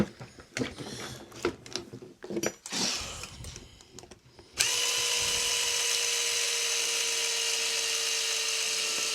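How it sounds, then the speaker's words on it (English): Small screws being worked out of the bottom skid plate of a Traxxas Mini Maxx RC truck, a run of close clicks and scrapes giving way to a steady, loud mechanical whir that continues to the end. "So maybe I'll pop out these bottom skid plate screws."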